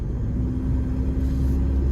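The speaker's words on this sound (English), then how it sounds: "this sounds like actual turbo noise" Steady, close engine rumble from a 2023 Kia K5 GT-Line turbo with a Shark Racing intake fitted, a constant low drone with a faint hum that continues unbroken throughout.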